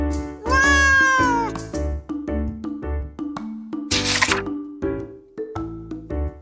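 A cat meows loudly in a long drawn-out cry, followed by a few shorter meows over a steady rhythmic musical backing, with a bright burst of noise midway.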